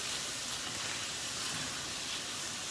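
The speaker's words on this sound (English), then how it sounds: "I do have to fry the tortillas." Tortillas frying in avocado oil, a steady bright hiss and sizzle close up, continuous with no voices.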